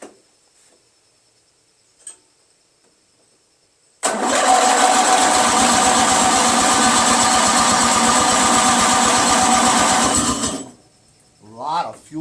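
A Briggs & Stratton 16HP opposed-twin engine cranks and catches, running loud and steady with a rapid throbbing pulse for several seconds before cutting out, with a voice following.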